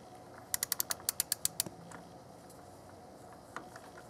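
Wrench clicks while tightening a thermostat housing bolt to about 8 pounds of torque on a 2001 Oldsmobile Silhouette 3.4L V6: a quick run of about ten sharp ratcheting clicks, close and clear, then quiet with one faint click later.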